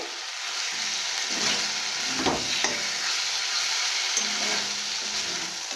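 Ginger-garlic paste frying in a pan, a constant close sizzle with occasional light stirring scrapes, no voices.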